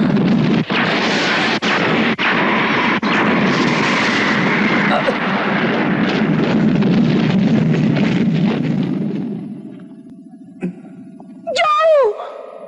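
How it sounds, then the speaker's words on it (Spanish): A loud, roaring blast rumbles on for several seconds before fading, followed by a few short electronic warbling tones. "¿Qué habrá sido esa explosión?"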